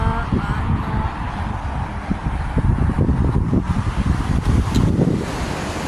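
Wind buffets the microphone on a seashore during a solo hike, a constant roaring rumble with the wash of sea waves mixed underneath, loud and unbroken throughout.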